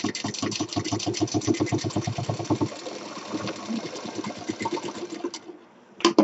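A sewing machine stitches a zip onto a simple fabric bag, its fast, even needle pulses running steadily up close, easing off briefly and then resuming before a short pause near the end.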